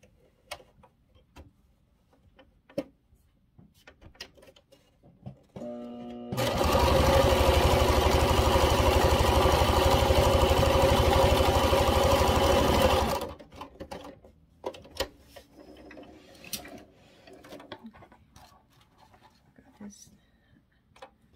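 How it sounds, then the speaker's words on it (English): Sewing machine running steadily for about seven seconds, restitching part of a gnome's fabric hat, loud and close, with quieter handling clicks and rustling before and after. "I guess I'm just gonna re-sew this one chunk of his hat."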